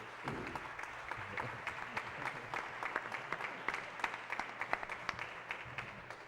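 Audience applause at the opening session of a congress, sustained clapping from a large hall heard at some distance, steady with sharp individual claps standing out.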